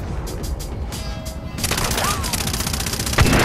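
Gunfire in the video game Far Cry 3: loud, dense bursts of shots over a busy game soundscape, growing heavier partway through and capped by a sharp boom near the end.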